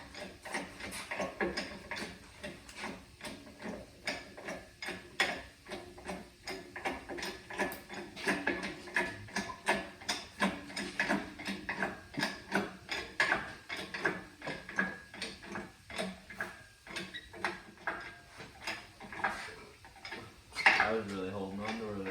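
A K20A2 engine is jacked up for an EK swap: repeated ratcheting clicks and metallic ticks in an uneven rhythm over about twenty seconds, with some clanks and a louder knock near the end, close up.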